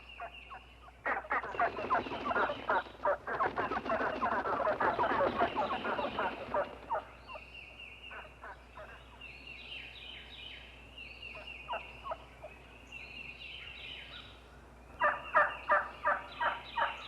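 Wild turkeys gobbling during their mating ritual, repeated bursts of rattling gobbles, one long loud chorus followed by scattered shorter calls and another cluster, fairly close outdoors.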